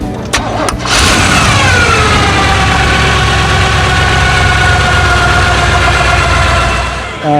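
A 1928 Ford Roadster hot rod's 350 V8 engine with modified exhaust cranks and fires up, then settles into a loud, steady rumbling idle with a deep throaty exhaust, close by.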